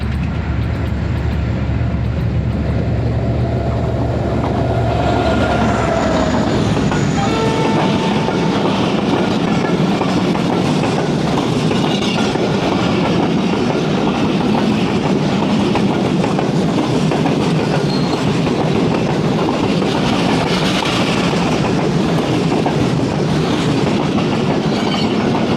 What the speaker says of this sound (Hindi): और 8 डाउन तेज़गाम गुजर रही है लुंडो से।